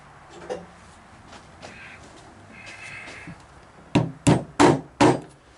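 Hammer tapping a wooden piece into place on a porch swing, with faint scraping and fiddling first, then four sharp, close knocks in quick succession.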